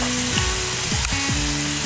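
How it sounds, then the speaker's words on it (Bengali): Ginger garlic paste frying with onions in a pan gives a loud, close sizzle with a few scraping stirs, while tonal whines and slides run through it. "পেঁয়াজ ভাজা ভাজা হয়ে এলে এবার দিলাম আদা রসুনের পেস্ট"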